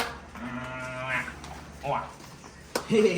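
Cows on a farm with a herd of about twenty-five moo in long, low, drawn-out calls, one after another and fairly near. Other animal noises and rustling follow.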